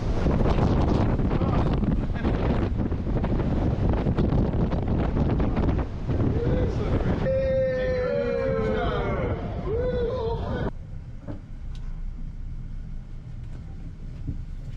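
Heavy 50 mph wind gusts roar and rush continuously aboard a ship at anchor, with a whining, creaking tone rising in the middle before the gusts ease slightly toward the end.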